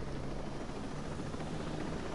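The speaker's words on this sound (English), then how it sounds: "I can hear the helicopter." Helicopter in the video game Ghost Recon Breakpoint, a continuous rotor whir and broadband drone at steady moderate volume with no talking.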